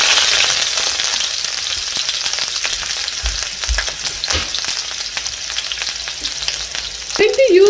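Minced ginger frying in oil for an Indo-Chinese soya chunk Manchurian, a steady close sizzle with scattered crackles and a few low knocks of stirring, continuous throughout.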